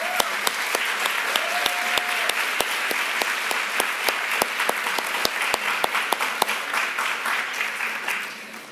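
A ceremony audience breaks into sustained applause, a dense, even wash of many hands clapping. It holds steady through the clip, crossed by regular sharp clicks, then fades at the end.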